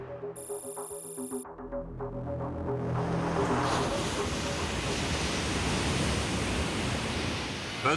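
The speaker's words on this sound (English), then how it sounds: "Here is an actual gap with water streaming through." Floodwater streaming through a breach in the Yellow River bank, a loud, steady rushing roar that builds after a brief quieter opening with a short electronic tone, then continues broad and unbroken.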